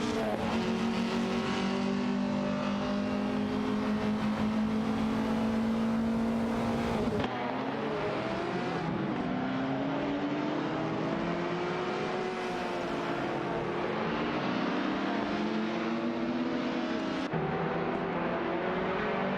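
Race cars in a racing video game, including a Ligier JS P4 and Norma M20FC prototypes, drone steadily with shifting engine pitches as several cars pass and gear changes sweep up and down, loud and continuous throughout.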